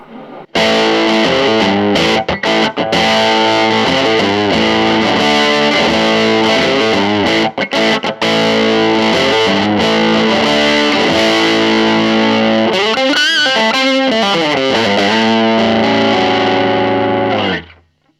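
An electric guitar on its bridge pickup, played through a distorted 5 watt amp, loud and continuous for about seventeen seconds of gritty riffing and chords before cutting off.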